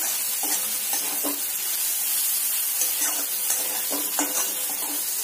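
Tomatoes sautéing in hot oil for a desi-style pasta give a steady hiss and sizzle, with several soft stirring scrapes spread across the clip and no voices.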